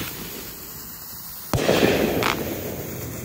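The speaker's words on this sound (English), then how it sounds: "here goes the Flashing Light Strobe Pot Firework" A flashing light strobe pot firework, about two years old, goes off with a sudden loud bang, then a dense crackling burst with a second flare of crackle shortly after, close by and not under any talk.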